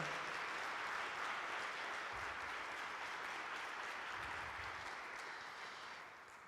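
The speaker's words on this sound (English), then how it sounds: "Can we please give Sheila Maldonado and JoJo Abbott another round of applause, please?" Steady audience applause fills a church after a performance of John Adams's El Niño at Judson Memorial Church, dense and continuous before easing slightly at the end.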